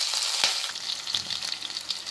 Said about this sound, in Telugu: ఇప్పుడు ఇందులో నేను పచ్చిమిరపకాయలు వేస్తున్నాను,